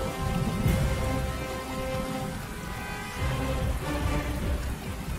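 Heavy rain pours steadily with a low rumbling storm underneath, constant and close, with no voices.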